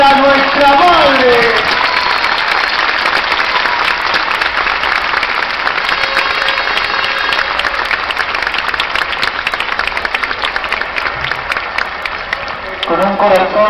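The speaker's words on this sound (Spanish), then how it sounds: "¡Aplausos para nuestra madre!" Enthusiastic applause from a crowd at a religious procession for María Auxiliadora in Breña, Lima, Peru, a loud dense clapping that continues steadily for over ten seconds, with a voice over a loudspeaker at the start and end.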